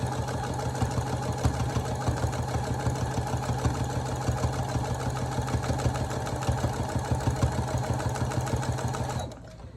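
A sewing machine runs steadily while stitching a straight seam along the edge of fabric for a pillowcase, its rapid mechanical chatter continuous and close, then stopping abruptly near the end.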